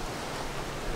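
A steady hiss of rain falling, soft and even throughout with no distinct drops or voices.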